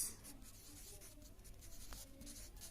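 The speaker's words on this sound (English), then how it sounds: "So here we will write down" Chalk or marker writing on a board in a maths classroom, a quiet continuous scratching with small strokes and one sharper tap, fairly close and alone without talk.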